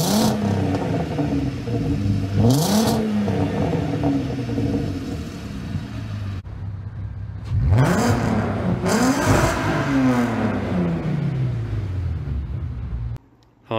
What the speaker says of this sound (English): And of course, it's got that iconic exhaust note.